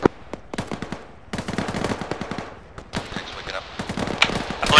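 Machine gun fire in a video game battle, with rapid bursts and scattered shots near and far, continuous and dense, while a voice speaks briefly.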